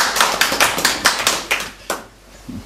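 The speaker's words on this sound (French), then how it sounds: "Voilà, donc vous pouvez tous vous applaudir." Applause from an audience gathered for a talk on a passive house, a burst of hand claps with distinct individual slaps that thins out toward the end, fairly close and loud, with no talking.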